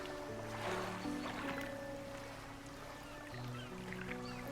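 A boat engine in the video game Dredge drones steadily with a low, layered hum under soft game music tones, holding at an even, moderate level throughout.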